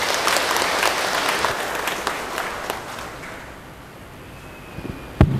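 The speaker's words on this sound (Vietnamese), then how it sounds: "Chúng con nổ một tràng vỗ tay để cảm ơn quý Cha." A church congregation applauding to thank the priests at a parish patronal feast Mass, a loud, dense burst of clapping that gradually fades out, followed by a couple of sharp knocks.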